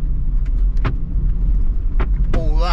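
A camping cooking table knocks and rattles against a bed in the back of a moving car, with sharp irregular smacks over a steady road rumble.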